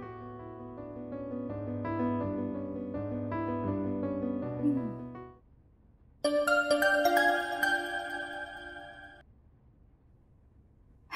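A mobile phone ringtone plays a looping melody indoors at home, pauses briefly, then rings again in a brighter burst before fading; no one answers during it.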